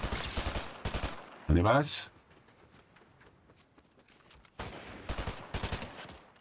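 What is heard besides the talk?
gunfire in the video game Fortnite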